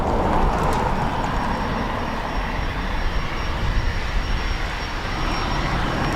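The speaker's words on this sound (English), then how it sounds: "AA 133 to DFW lined up next" An American Airlines jet bound for Dallas–Fort Worth sits lined up on the runway at Dublin Airport, its engines giving a steady, loud broadband roar that holds without pause throughout.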